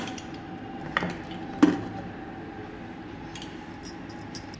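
A cooled pressure cooker holding cooked vegetables and corn cob is opened, its metal lid giving two short clanks close by in an otherwise quiet kitchen.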